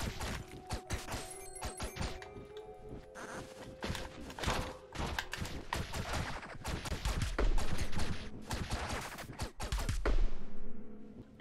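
Rapid bursts of gunfire and thudding impacts from the video game Owlboy, dense and continuous throughout with heavy hits near the end, no one talking.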